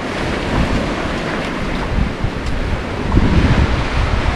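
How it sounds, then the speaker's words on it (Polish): Surf washes steadily onto the beach at Split, Croatia, a broad continuous roar of waves mixed with strong wind buffeting the microphone, with no voices. "Doszliśmy do plaży w Splicie."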